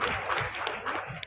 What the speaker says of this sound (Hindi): जोरदार तालियों से अभिनंदन और स्वागत होना चाहिए।